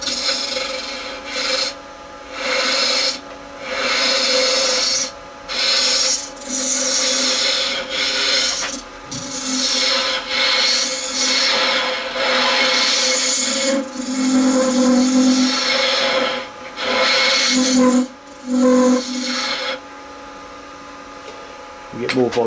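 A carbide lathe tool shapes the nose of a spinning epoxy resin piece with the tailstock pulled away, giving a loud, steady scraping rasp in repeated passes over a faint motor hum.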